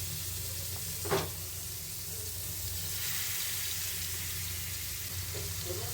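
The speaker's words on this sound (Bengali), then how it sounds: "চলো, একে একে চিকেনগুলোকে এইভাবে ছেড়ে দিতে হবে গরম তেলের মধ্যে।" Chicken pieces for tandoori going one by one into hot oil, a steady hiss of frying with a brief sharper splash early on and another near the end, no talking.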